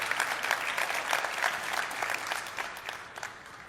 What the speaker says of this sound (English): Thank you. Please go ahead and clap.